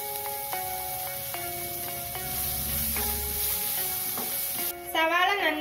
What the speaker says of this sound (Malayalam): ഇതിലേക്ക് സവാള അരിഞ്ഞത് ചേർക്കാം സവാള ചേർത്ത് കൊടുക്കാം സവാള നന്നായിട്ടൊന്ന് വഴന്നു വരണം